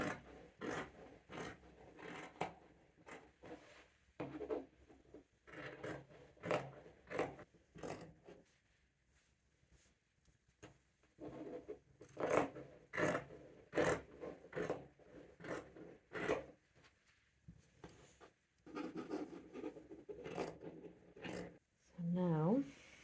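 Scissors snip through fabric for a beginner sewing project, a run of short crisp cuts in irregular bursts with pauses between them, close and fairly quiet; a voice speaks briefly near the end.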